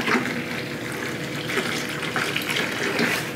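Liquid pours out of a home-brew beer fermenter in a continuous, close, fairly loud gush with slight surges in flow and no speech.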